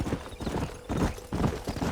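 Horse hooves clip-clop in a video game, a steady near trot of rhythmic hoof beats with no pauses.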